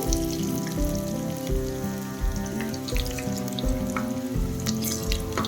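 Chopped onion and curry leaves fry in hot oil for a South Indian udad dal palya, giving a steady close sizzle with crackling pops and spits over a low repeating background hum.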